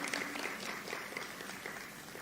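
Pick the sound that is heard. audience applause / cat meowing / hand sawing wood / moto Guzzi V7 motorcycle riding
audience applause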